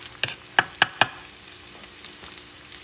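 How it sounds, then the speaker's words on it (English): Onions and chorizo sausage frying in a pan, a low steady sizzle broken by several sharp crackles and pops in quick succession, close and without any voices. "When you hear the onions sizzling"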